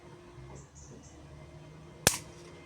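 A homemade spot welding machine gives a single sharp popping burst from a brief press of its button, loud and sudden against a quiet background, with a short decay.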